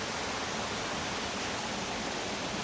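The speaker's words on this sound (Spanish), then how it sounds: "Si escucháis por ahí abajo corre bastante agua" Water rushing through a mill channel below the floor, a steady, even hiss of flowing water, quiet and constant with no other sounds.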